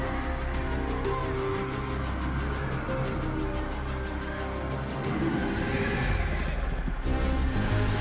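Horse neighs and clip-clopping hooves from a League of Legends season cinematic, sounding loud and steady over a dense orchestral score without any talk.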